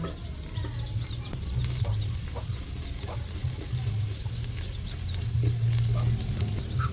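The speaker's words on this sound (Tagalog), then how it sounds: "Lalagay na rin po natin yung bawang." Garlic frying with ginger in a pan as a chicken dish cooks in a rural home kitchen, a steady sizzle with intermittent scraping stirs throughout, fairly close, with faint birds in the background.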